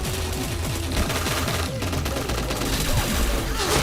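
Dense, rapid bursts of gunfire and overlapping shots from the first-person shooter game Point Blank, loud and continuous throughout with no pauses.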